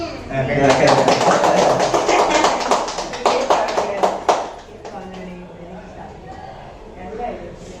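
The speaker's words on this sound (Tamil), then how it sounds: "நீ கை தட்டுங்க." Hands clap at a birthday function in a hotel, a quick run of sharp claps that fades out partway through, with people talking over it.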